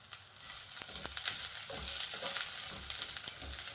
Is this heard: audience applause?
no